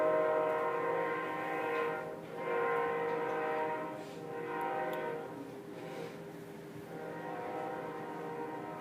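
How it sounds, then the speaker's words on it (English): A train passes outside, sounding its horn in several sustained blasts that swell and fade over its rumble, heard at a moderate distance with no one talking. "The train is having its commentary."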